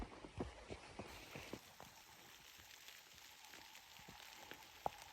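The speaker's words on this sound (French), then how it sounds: "Petite pluie." Faint, light rain with scattered drops pattering on nearby surfaces, soft and quiet outdoors on a hiking trail in Gaspésie National Park, Quebec.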